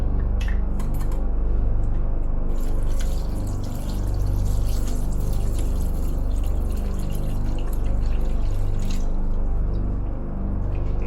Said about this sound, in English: Now we're gonna fill this with water.